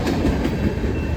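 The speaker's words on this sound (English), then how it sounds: "What you're seeing here is a Herzog track repair train." A Herzog track repair train with bright yellow cars rolls past on BNSF tracks in Chilliwack, a loud, close, continuous rumble with rhythmic wheel clatter throughout the brief moment.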